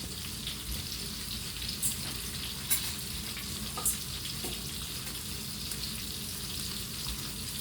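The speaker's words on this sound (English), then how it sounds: "we're going to flip our pork chops so they can brown on the other side" Pork chops browning in a pan for smothered pork chops in gravy, with a soft, continuous sizzle and a few light clinks of a fork or utensil. No one speaks.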